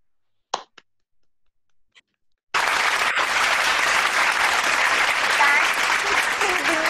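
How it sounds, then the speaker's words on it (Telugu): A group of children in a kids' club claps for a girl named Hadassa, starting with a few scattered claps and then bursting into steady, loud, sustained applause that runs to the end. "తల్లి హదస్స ఆకు ముందు నీకు క్లాప్స్ కొట్టేస్తాం"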